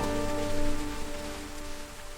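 Steady cartoon-style rain effect falling without pause, a dense hissing patter with a low droning hum underneath, fairly loud and alone with no voices.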